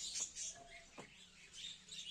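Small birds chirp in a bird sanctuary aviary holding doves, macaws and budgerigars, with a few short tweets scattered over two seconds, moderately near but fairly faint.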